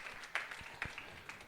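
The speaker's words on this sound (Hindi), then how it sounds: "ताली बजा के प्रभु का धन्यवाद करेंगे।" A church congregation clapping hands in thanks during a worship service, a few scattered claps at moderate distance over a soft room murmur, fairly quiet and brief.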